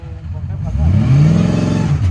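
A car engine revs up as the driver presses the gas, rising to a loud mid-pitched roar and holding there, close by, with voices talking over it.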